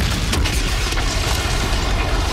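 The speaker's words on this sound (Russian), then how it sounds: "А смотри, сейчас взрыв был" A loud, booming explosion from a film stunt scene, with debris flying: a heavy broadband blast that stays dense and rumbling throughout, with a few sharper bursts early on and no speech.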